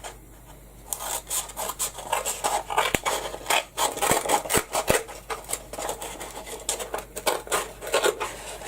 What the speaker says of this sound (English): I want to cut some of these down, cut a couple of pieces of this down.